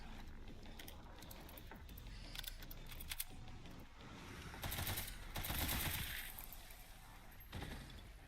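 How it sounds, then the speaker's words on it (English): Rapid bursts of video game gunfire, quiet and somewhat distant, with sharp clustered shots and mechanical clatter recurring irregularly over a low background bed. "Who is shooting that?"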